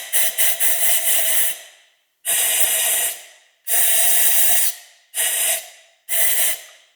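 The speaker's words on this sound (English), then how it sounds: "If you have compressed air, blow out all the dust that is down at the spark plugs." Compressed air blown in five long hissing bursts into the spark plug wells of a 2012 Acura TL engine, each blast loud and close, separated by short silences.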